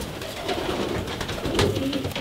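A racing pigeon in a loft coos softly, its low throaty calls repeating in short phrases over a faint steady background.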